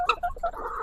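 Egg-laying hens on a farm give a burst of short clucks and squawks, fairly close and clear, with more low clucking continuing behind.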